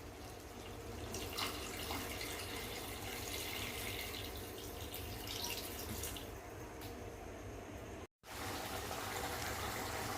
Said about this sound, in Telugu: కొన్ని వాటర్ పోసుకోండి.